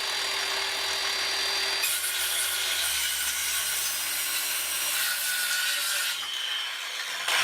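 Cedar wood being cut by a saw in a bathroom cedar closet, a steady, loud rasping that continues for several seconds, changes in tone partway through, and ends with a quiet stretch.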